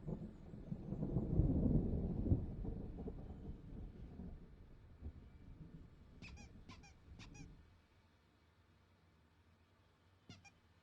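Thunder from an approaching storm rumbles low and heavy in Alan Wake Remastered, rolling loudly at first and fading away, while a few sharp squeaky chirps stand out over the quieter tail.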